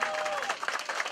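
Wedding guests applaud at a celebration, the clapping filling a short burst while a voice speaks over it.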